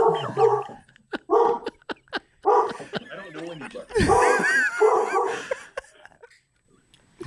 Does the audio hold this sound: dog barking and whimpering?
yes